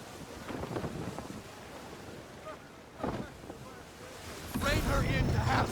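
A sailing ship at sea in Assassin's Creed III brings a continuous wash of wind and waves with creaking and rushing water, swelling louder near the end, with occasional voices in the background.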